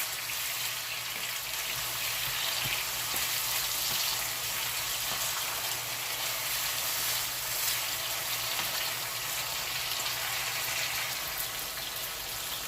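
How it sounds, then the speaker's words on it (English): Plantain and scrambled eggs with tomatoes frying in a pan, giving a steady, soft, continuous sizzle with faint crackles and no talking. "I've been frying it for about 5 minutes, and I'll still keep frying because I want my tomatoes thoroughly cooked"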